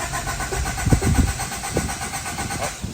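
A Honda CRX HF engine is started with the key, opening with a few sputtering cranking pulses and then settling into a steady close idle hum.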